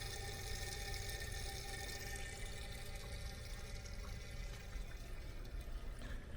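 Transmission fluid draining from a second-generation Dodge Cummins truck makes a faint, steady pouring rush with no break.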